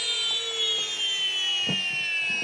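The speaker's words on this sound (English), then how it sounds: "What I'm going to do right now is I'm going to mill a cup of wheat berries." Electric grain mill grinding a cup of wheat berries in a home kitchen, a steady high whining hum like a small airplane, continuous and close with faint knocks underneath.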